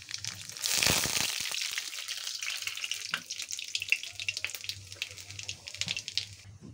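Nigella seeds hitting hot oil in a pan while cooking a fish recipe, with a bright crackling sizzle that flares up at first and then settles into a softer, steady fizz.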